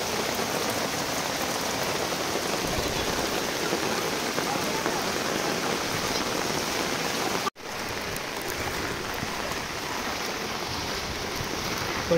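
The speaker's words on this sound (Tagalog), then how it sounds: "Walang tigil yung ulan, pataas ng pataas." Heavy, unbroken rain pours down during Typhoon Carina, a dense steady hiss of drops drumming on surfaces that fills the whole stretch, with one brief dropout partway through.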